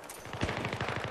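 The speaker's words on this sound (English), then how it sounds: "Guy in the crane with the machine gun" Machine gun fire from a soldier in a crane in the video game Battlefield 3, a rapid, even burst of shots at moderate distance, heard alone and fairly faint.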